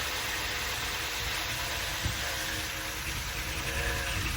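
A 1977 Winnebago motorhome engine idling after sitting abandoned for twenty years, a steady, slightly rough mechanical drone with fan-like hum, close and constant throughout with a single faint knock midway.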